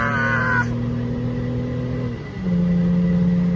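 A Mercedes W210 sedan accelerates from a standstill, its steady engine drone dipping briefly at a gear change and then settling into a lower, stronger tone, heard from inside the car.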